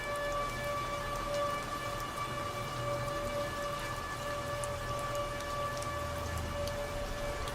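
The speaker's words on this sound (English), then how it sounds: "The rain outside is hypnotic, is it not?" Steady rain falls outside in an even, unbroken hiss that holds at a constant level throughout.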